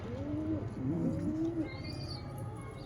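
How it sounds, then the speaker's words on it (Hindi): Punjabi pigeons coo in a low, soft warble, a couple of rolling calls close by over steady background noise, with a higher whistle-like tone drifting in near the end. "कबूतर है अपने पंजाबी"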